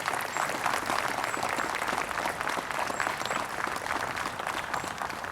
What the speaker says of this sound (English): round of applause also for them